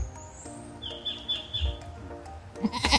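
Faint bleating from a nearby goat on a farm amid soft background chirps, with a louder rustling burst near the end.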